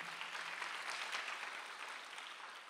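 A congregation at a Sunday church service applauds in a steady, fairly soft burst of many hands clapping, with no talk over it.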